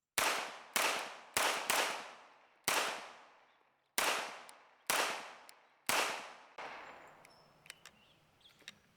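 Eight loud, sharp gunshots from an H&K 45CT compact .45 pistol, fired in a steady sequence with short pauses and each report ringing out briefly, followed by quieter outdoor background noise.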